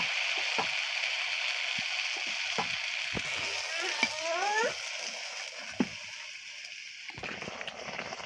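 Rice flour malpua pitha frying in a pan, a moderate bubbling sizzle with occasional clinks and brief crackles, close by.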